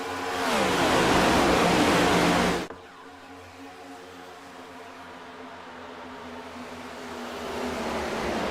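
Race cars roaring at a restart at Chicagoland, a dense loud engine roar that cuts off abruptly, followed by a quieter steady engine drone that builds again toward the end.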